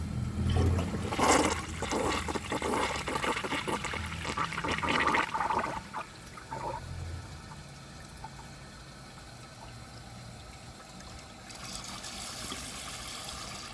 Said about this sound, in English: So I'm going to empty the rest of the water out of the tank